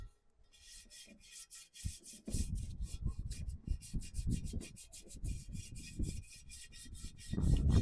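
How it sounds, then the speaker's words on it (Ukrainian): Repeated rubbing strokes of a rag or wheel brush scrubbing a car wheel rim during whitening, a steady scraping rhythm that grows louder after a quiet start, close up with no speech. "Кому більше подобається ганчірочкою, тріть ганчірочкою."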